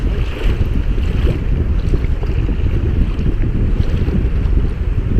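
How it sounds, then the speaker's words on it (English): Continuous close rush of water and wind as a kayak rides big waves on the St. John River in Maine, loud and steady for the whole stretch with no voices. "More bigger waves."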